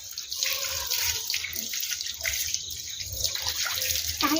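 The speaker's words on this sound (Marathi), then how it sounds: "टायरवर पाणी मार." Water sprays steadily from a hose while a car is washed outdoors at home, a continuous hiss with splashing shifts as the stream moves, ending in a sharper burst of spray.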